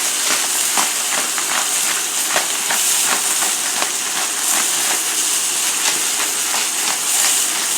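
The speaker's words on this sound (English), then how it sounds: "We want to hear that sear." Roast beef sears in a hot pan, giving a loud, steady hiss with dense crackling and popping throughout, no voices.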